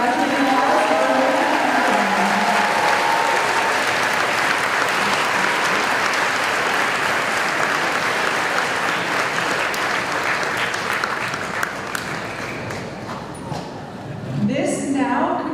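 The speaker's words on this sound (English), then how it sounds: "Let's give a round of applause to our graduating class." Sustained applause from a crowd of parents, families and guests for the graduating eighth-grade class at a school move-up ceremony, loud and steady for about fifteen seconds, dipping slightly near the end.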